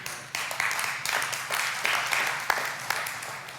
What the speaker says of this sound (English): Now, I appreciate that clap, but if you're going to clap, you got to learn to clap